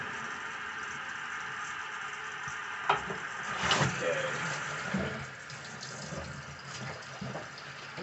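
Water from a hose or tap rinses rust off iron weight plates at a budget home gym, a steady close spray and splash with a few louder gushes as the stream hits the metal.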